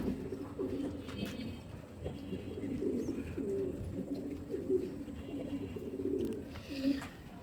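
Steady, fairly loud cooing from a racing pigeon in a loft, a pigeon that has raced 335 km, with repeated soft rolling coos throughout and no talk.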